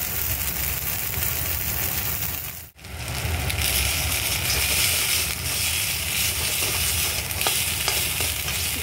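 Vegetables with a little ginger paste sizzle and crackle loudly in an oiled pan as they are stirred, a dense continuous frying hiss close up with one brief dip partway through.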